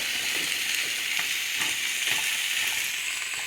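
Rabbit stew vegetables being stirred in a hot pot, a continuous close sizzle with soft scraping stir strokes repeating through it.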